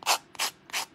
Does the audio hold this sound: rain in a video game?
no